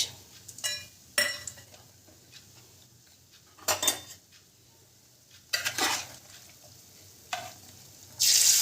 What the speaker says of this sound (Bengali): তেজপাতাটা তেলে দিয়ে দিলাম এলাচ